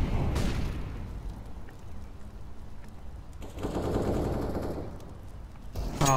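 Gunfire and blasts in Counter-Strike: Global Offensive with a grenade going off. Loud, dense bursts of shooting and an explosive thump over the ongoing noise of a match, with no talking.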